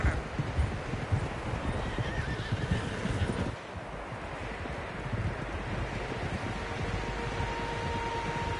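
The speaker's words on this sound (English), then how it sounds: "Horses, quite a few of them." Several horses in the Red Dead Redemption 2 video game whinnying loudly while hooves clop steadily, set against rustling wind outdoors; the neighing is strongest early, then eases into continuous hoofbeats and breeze.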